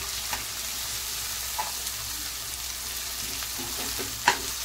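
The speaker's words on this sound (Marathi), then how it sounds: "कांदा आता चांगला परतून घेऊया आपण।" Finely chopped onions for kande pohe sautéing in a pan, a continuous close sizzle with light stirring clicks and one sharper scrape toward the end.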